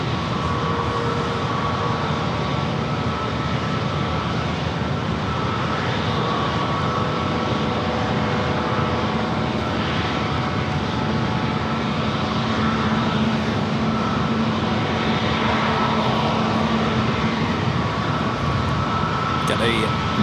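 A Boeing 787 Dreamliner airliner passes over San Diego airport, its engines making a steady, loud broadband roar with a faint whine that holds for the whole stretch.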